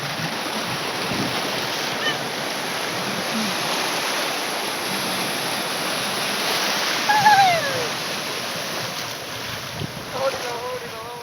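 Sea water washes continuously onto a beach with wind buffeting the microphone and a broad roar of surf, and faint distant voices briefly rise above it.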